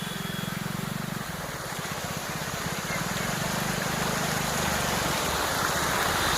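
Flood water rushes through a village during a monsoon flood, a steady broadband roar with a low rhythmic throb at the start, continuous and fairly loud throughout.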